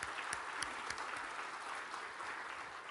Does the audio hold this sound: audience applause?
yes